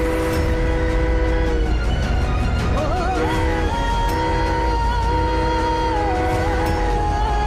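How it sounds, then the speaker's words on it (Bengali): A train pulls in with a long horn blast sounding over a steady rumble of rolling wheels, loud and close throughout. "ট্রেন এসে যাবে"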